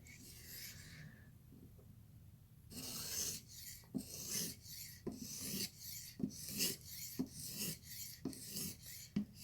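A knife blade is drawn across a sharpening stone to shear off the burr: after a quiet start, a run of close, loud, rhythmic gritty scraping strokes repeats steadily.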